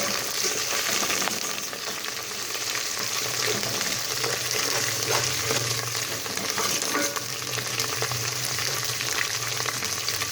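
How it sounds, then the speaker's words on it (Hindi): Ginger garlic paste sizzles and fries in a pan with browned onions, a steady dense crackle and hiss with occasional stirring scrapes, close and continuous with no voices. "अदरक लहसुन को भूनेंगे 2 मिनट के लिए।"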